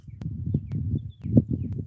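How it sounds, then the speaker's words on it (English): Birds chirp faintly in the open air outside an urban gas station, with brief high calls scattered over a low rumble of traffic and ambient noise. "Can you hear the birds?"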